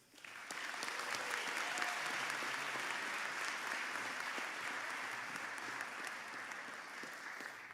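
A graduation audience at a School of Tourism and Hospitality Management ceremony applauds steadily, a dense sustained wash of clapping from a large crowd, fading slightly toward the end.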